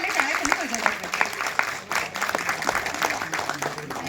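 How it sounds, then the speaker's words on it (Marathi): Applause from a media audience at a Marathi film event, a moderate scattering of claps mixed with voices and chatter throughout. "जोरदार टाळ्या, टाळ्यांचा आवाज फार कमी आहे"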